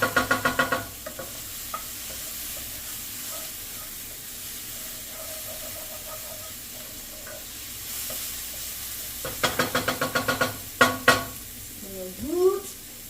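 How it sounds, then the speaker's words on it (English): Sauce hits a hot pan of frying tofu balls, bursting into a loud hiss and sizzle that settles into a steady fry under quiet talk, followed by close stirring and scraping clatter. "We're about to add our sauce."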